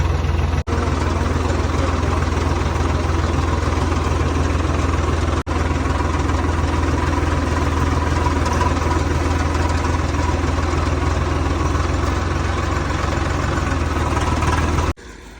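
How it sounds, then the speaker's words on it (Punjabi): A tractor engine drones steadily and loudly throughout, a constant low rumble with vibration and no voices. "ਮੈਂ ਤੇ ਬਿੱਟੂ ਜਾ ਰਿਹਾ ਟਰੈਕਟਰ ਤੇ"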